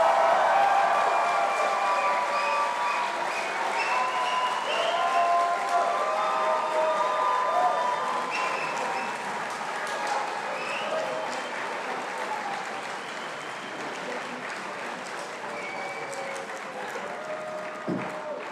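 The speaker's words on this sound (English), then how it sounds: "One big last round of applause for our class of 2026." A packed hall applauds the dental class of 2026 at their white coat ceremony, with loud, sustained clapping, some cheering and whistles, and chatter mixed in as the applause slowly fades.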